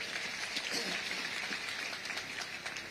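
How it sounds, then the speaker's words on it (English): Conference audience at a presidential investors' event gives a round of applause, a sustained, even wash of clapping from a large room with faint voices underneath. "Let's give that a round of applause,"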